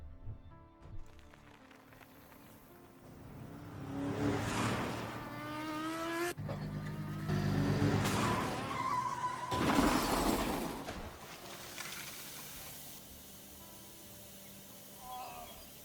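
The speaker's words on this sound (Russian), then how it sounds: "От удара пикап врезается в велосипедиста, а мотоциклист не успевает затормозить, теряет равновесие и падает вместе со своей пассажиркой" A pickup truck strikes a cyclist and a motorcycle in a video game crash, with engine noise, tire squeal and sharp shattering impacts in several loud bursts over a steady vehicle drone.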